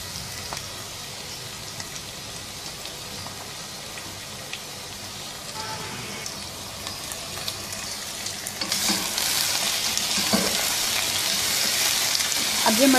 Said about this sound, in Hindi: अब ये मटन को इसमें 4-5 मिनट अच्छी तरह से भून लेंगे।